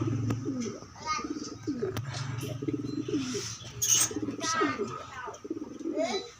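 Newly hatched pigeons in a nest make soft, repeated cooing and peeping calls close by, with a low steady hum and some background voices underneath.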